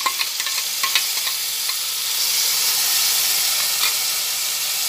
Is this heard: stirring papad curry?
yes